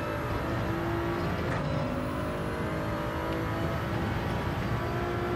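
A Gr.3 race car engine in Gran Turismo at the Sardegna track roars steadily at high revs on hard tires, loud and continuous with a constant whirring drone.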